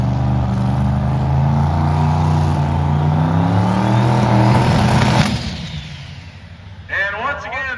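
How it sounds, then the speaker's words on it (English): A turbocharged drag car makes a run at Byron Dragway, with the turbo failing to reach full boost. The engine drones loudly and steadily before cutting out suddenly, followed by a quieter tail and a brief squeal. "the turbo just deciding it did not want to reach full tilt boost"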